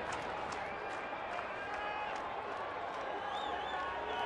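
Dense, steady roar of a large baseball stadium crowd of over 31,000 standing and cheering as the home team nears a final strike, broad and continuous throughout with no clear single voices.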